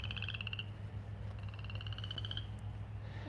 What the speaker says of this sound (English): Hear the frogs?